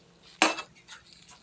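Kangkong dropped into a simmering pot of sinigang na lechon, one sharp clatter of utensil against the pot followed by softer knocks and rustling, close and fairly loud with no talk.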